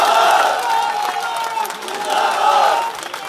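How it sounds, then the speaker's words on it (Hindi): A large outdoor crowd at a Rashtriya Loktantrik Party rally in Nawalgarh cheers and applauds loudly in a short burst, with the roar swelling, dipping slightly, then rising again. "एक बार जोरदार तालियां आप इनके लिए बजाएं"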